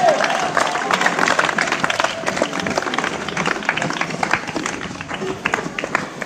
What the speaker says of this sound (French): c'est des applaudissements, ça donne des ailes